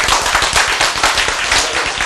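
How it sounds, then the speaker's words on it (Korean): A class audience at a Korean lecture on healthy eating breaks into brisk, dense clapping for about two seconds, close and loud, with no talk over it. "박수."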